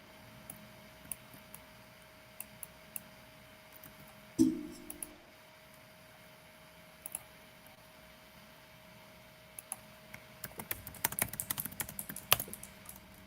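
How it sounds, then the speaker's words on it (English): Keys clack on a clicky computer keyboard in quiet, scattered taps, then a quick flurry of close, sharp keystrokes near the end. "you have that very clicky keyboard"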